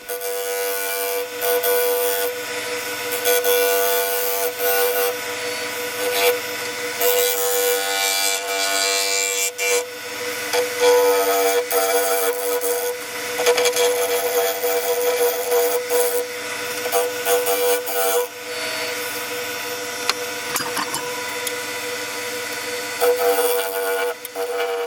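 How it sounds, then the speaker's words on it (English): A large skew chisel held flat as a scraper rasps across the outside edge of a yew goblet spinning on a wood lathe, a steady close scraping hiss that runs nonstop over the motor hum with small shifts in pressure. "Using my large skew there just to use as a scraper, just to finish the edge of the outside of the goblet off."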